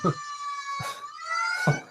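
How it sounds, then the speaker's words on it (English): A police car siren in a film scene set in San Francisco wails in rising and falling tones, loud and prominent, with short bursts of other sound breaking in between the sweeps. "she just puts the siren on"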